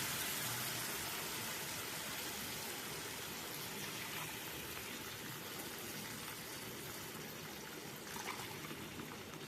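A steady broadband rush of water runs for several seconds, a continuous pour into a pot on a stove, fairly even throughout, while making egg Maggi noodles.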